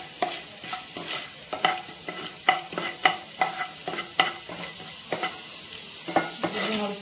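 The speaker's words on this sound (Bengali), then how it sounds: "মাটি কলাই ডাল খোসা ছাড়া দিয়ে অল্প ভাজবো।" Skinless urad dal lightly frying in a pan, with a soft steady sizzle broken by regular scraping stirs of a spoon against the pan, close and fairly quiet.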